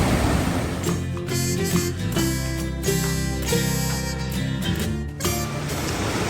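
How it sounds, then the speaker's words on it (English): Water pouring out of a cave mouth near a waterfall in Tennessee's Virgin Falls area, a loud, steady rushing roar with broadband wash throughout, close and uninterrupted, with no talking. "Water's really pouring out of there today."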